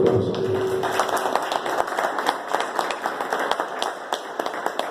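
Audience applause at a talk, a fairly close mix of individual hand claps over a softer background of many clapping hands, steady for the whole stretch.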